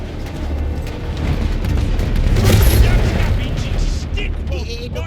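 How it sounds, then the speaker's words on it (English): Heavy cannons firing in the real-time strategy game Dawn of War III, a loud, dense battle mix of booming blasts and rumbling impacts swelling to a peak midway, with game voices speaking over it. "Those big cannons are keeping us from dropping in a war camp."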